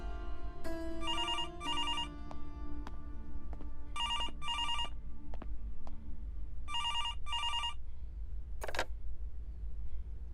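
A telephone bell rings in three distinct double bursts, loud and close, with a steady hum of background noise and no one talking.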